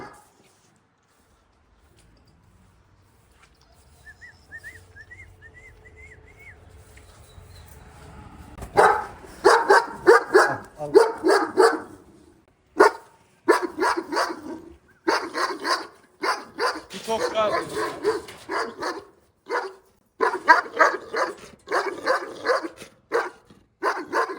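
After a quiet start, several Kangal dogs bark loudly and repeatedly at close range, deep woofs coming in irregular bursts, at a Kangal dog farm in Sivas.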